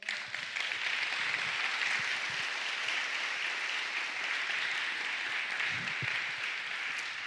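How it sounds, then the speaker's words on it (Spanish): A church congregation applauds the Lord during a Spanish-language sermon, a steady, dense wash of clapping that holds evenly throughout without any voice over it. "Dale un fuerte aplauso al Señor."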